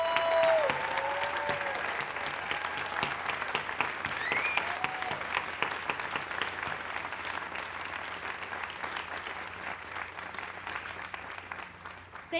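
A crowd at AIDS Walk New York applauds loudly and continuously, a dense sustained clapping with a few whoops, gradually easing toward the end.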